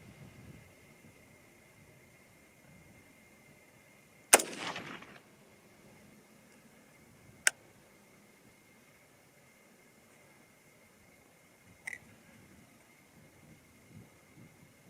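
Bear Creek Arsenal varmint rifle fired outdoors: one sharp shot with a brief echoing tail, followed by two fainter, isolated cracks spaced several seconds apart over quiet background.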